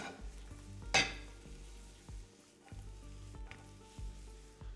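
Quince pieces sizzle and fry in a hot skillet for a Persian quince stew while a utensil stirs them, with a sharp scrape near the start and softer clinks through a steady frying hiss.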